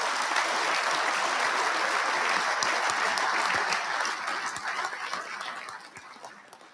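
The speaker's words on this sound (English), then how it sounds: "Please join us for a round of applause for our awardees and their families." At the MCA Training and Education Awards Dinner, a large audience applauds the awardees and their families. The clapping is dense and sustained, with a few sharper individual claps, and it tapers off gradually toward the end.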